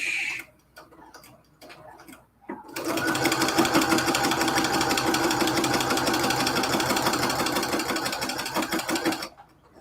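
A sewing machine back-stitches a cathedral window quilt curtain, running in one loud, steady burst of rapid mechanical ticking for about seven seconds after a few quieter handling sounds and a brief pause.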